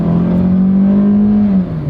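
A Toyota Celica engine revs up on acceleration with variable valve timing, a loud close rising tone that holds and then drops off at the end, no talk.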